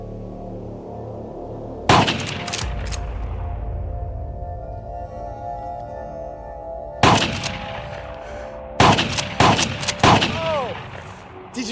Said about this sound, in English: They then disfigure the corpse with a shotgun.